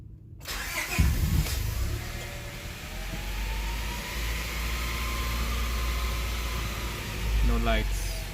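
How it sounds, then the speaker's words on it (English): A Honda Prelude engine cranks and catches, then settles into a steady low idle, heard close up with a person talking over the running engine. "Let's start the engine."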